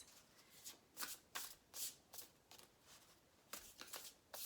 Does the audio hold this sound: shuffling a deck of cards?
yes